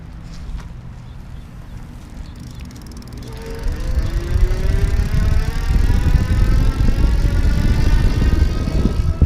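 An Easy Motion Evo City Wave electric bike with a 500 watt motor pulls away on throttle, a rising motor whine climbing steadily in pitch over rolling road and wind noise that grows louder after a quieter start.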